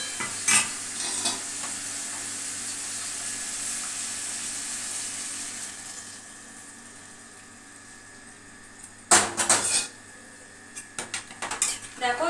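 Potato and cauliflower curry frying and stirring in a pan as broth goes in, with a steady sizzle broken by sharp clanks and scrapes of a utensil against the pot near the end.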